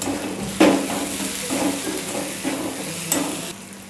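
Chili powder, turmeric, garam masala and salt fry in a pan with a hissing sizzle, broken by several close scrapes and knocks of a spoon against the pan.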